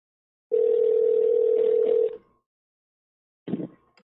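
A telephone dial tone holds steady for about a second and a half, then a short burst of tone follows after a pause. The tones are loud and close, with no voices.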